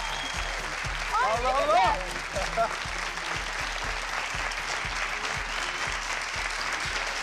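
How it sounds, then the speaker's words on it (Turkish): Studio audience applause on a Turkish television comedy series: dense, steady clapping fills the whole stretch, with a voice briefly calling out over it near the start. "Biz de alkışlayalım be vallahi."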